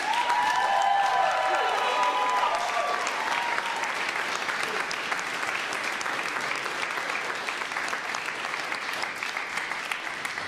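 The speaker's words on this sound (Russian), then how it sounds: "Отдельные аплодисменты." Long, sustained applause from the audience at a creative evening in Moscow, heavy and continuous throughout, with a few faint whistles or cheers near the start that fade as the clapping carries on.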